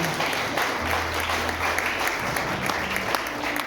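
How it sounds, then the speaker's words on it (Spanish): A church congregation applauds loudly and steadily, a dense mass of clapping that lasts throughout without a break. "Un aplauso fuerte al Espíritu Santo."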